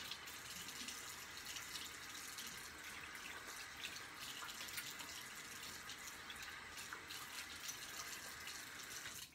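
Tap water runs steadily into a sink to rinse off after a shave, a constant faint hiss and splash with no talking.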